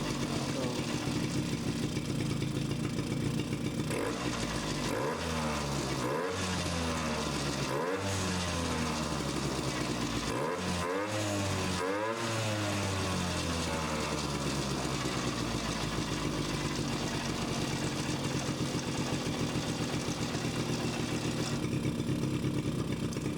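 A Suzuki LT50 ATV's small engine idles after a carburetor adjustment, running steadily near the microphone with several brief revs that rise and fall in the middle before settling back to an even idle.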